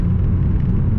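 A Chevy Beretta GTZ coupe's engine pulls hard through a gear change, a loud, close, steady low rumble filling the whole short stretch with no speech.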